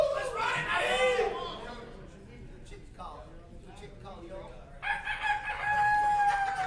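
A man in a crowd at an arm wrestling event imitates a rooster crowing, a loud drawn-out cock-a-doodle-doo call near the start, with crowd chatter and announcer speech continuing around it.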